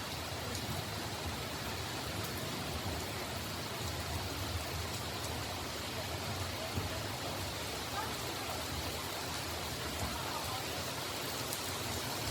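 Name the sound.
heavy rain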